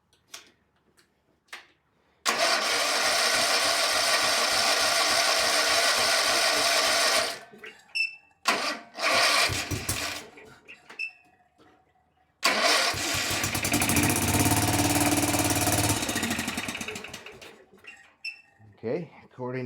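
A Kawasaki FS651S twin-cylinder mower engine, tested for a dead cylinder, cranks and runs in two bursts of several seconds each with a rapid ticking chug. Short gaps with knocks and handling noise separate the runs, and voices are heard briefly.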